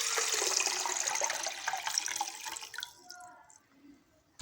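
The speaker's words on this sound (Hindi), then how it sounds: "इस जग में 7 गिलास पानी है, ये मैं डाल दूँगी इसमें।" Water poured from a jug into a container, a continuous splashing pour lasting a few seconds that tapers off into quiet, ending with a brief knock.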